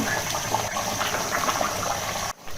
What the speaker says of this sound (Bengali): মাশাআল্লাহ তরকারি বলক আসছে